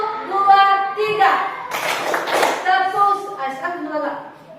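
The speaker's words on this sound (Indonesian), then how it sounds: "mari kita buat yel-yel tepuk semangat" A fifth-grade class clapping a rhythmic spirited cheer, bursts of group hand claps in a patterned beat, alternating with children chanting and singing along loudly and close.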